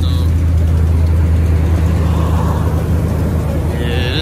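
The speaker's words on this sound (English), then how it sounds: "Sound like you got a little exhaust leak" An old Dodge Ram 1500 pickup with an exhaust leak idles close by, a loud, steady low rumble with a faint ticking edge that runs through the whole stretch.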